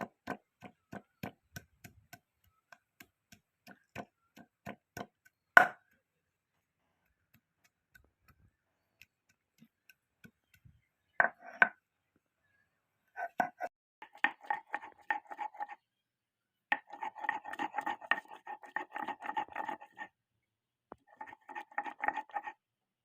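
Pieces of turmeric are chopped small with a knife on a board in a home kitchen: quick runs of crisp, light taps, then a pause, then denser clustered bursts of chopping close by.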